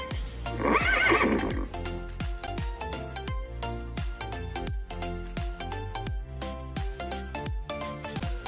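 A horse neighs loudly in a kids' animal puzzle game, a bright whinny followed by a fast rhythmic clip-clop of hooves and cheerful game chimes.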